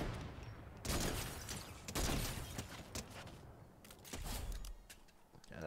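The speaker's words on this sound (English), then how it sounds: "That's when I could see some shooting off in the distance." Gunfire from a Fortnite match, with scattered shots and short bursts that swell and fade over a few seconds and quieter gaps between them, fairly faint overall with no speech.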